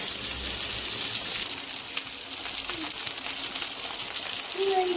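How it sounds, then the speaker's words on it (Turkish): Steady, dense sizzling hiss of sardines frying in a pan, loud and close and continuing without a break, with faint voices in the background. "Evet arkadaşlar balıklarımızı çevirdik. Pişmeye devam ediyor."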